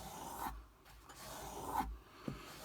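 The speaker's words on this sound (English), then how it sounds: "10 or 15 strokes on the leather." A knife blade sharpened on a Lansky system is stropped on a piece of leather in a few slow, quiet rasping strokes, with pauses between them.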